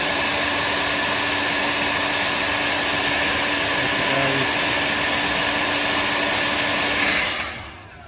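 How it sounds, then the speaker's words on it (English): A heat gun runs steadily to shrink tubing over LED tape in a garage, giving a loud, continuous blowing roar with a faint hum that holds for about seven seconds and then cuts off. "Press that down, get a heat gun. You'll see this start straight, shrink."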